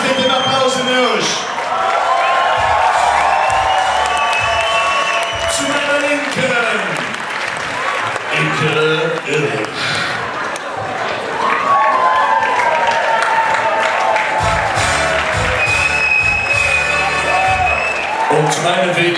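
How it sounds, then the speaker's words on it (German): A concert audience applauds, cheers and whoops loudly and steadily, with shouts rising from the crowd as a band is introduced on stage. "Wie war das mit dem Applaus in euch?"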